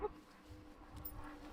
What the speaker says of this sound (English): Curious little dog.